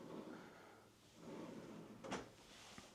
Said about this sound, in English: Guess we can open up some of the drawers